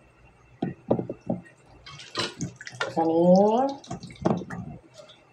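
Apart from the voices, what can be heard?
washing with water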